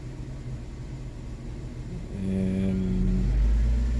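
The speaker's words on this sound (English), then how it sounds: "So I'm giving it a little bit of throttle." A Kia Sportage 2.7 engine, misfiring and prone to surging, idles with a low rumble, then rises in a steady hum as a little throttle is applied and held.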